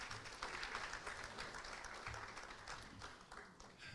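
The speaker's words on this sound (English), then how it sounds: "please, another round of applause." Another round of applause at a morning opening ceremony, a hall full of guests clapping steadily at moderate distance, sounding faint and somewhat muffled throughout.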